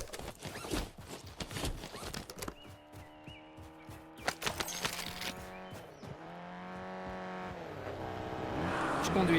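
Video game car in a Warzone battle royale match driving along, engine hum steady and rising toward the end, with clicks and scattered bangs of gunfire and impacts early on.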